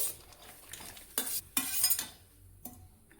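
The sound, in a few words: stirring pasta boiling in water in a pan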